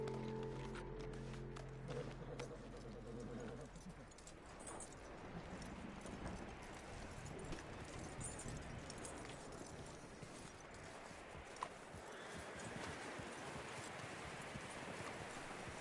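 Horse hooves clip-clop at a steady walking pace in Red Dead Redemption 2, a run of quiet, evenly spaced thuds set under a low rumble of background ambience.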